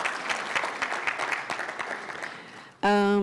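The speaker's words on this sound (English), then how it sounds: "Please, let's give them a better clap." Applause from a conference audience rises and gradually thins, many hands clapping at close range, cut off near the end by a loud sustained tonal sound.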